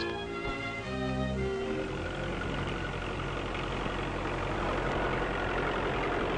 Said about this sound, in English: the replacement of the horse by the tractor for drawing plows and cultivators